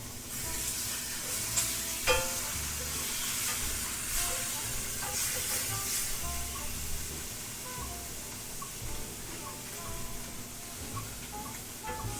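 Seasoned beef frying in a pan gives a steady close sizzle and hiss, with occasional scraping and stirring knocks throughout.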